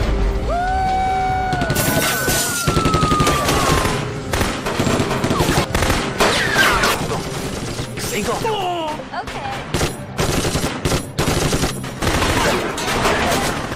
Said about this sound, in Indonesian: Setelah polisi datang, perampok itu menembaki polisi.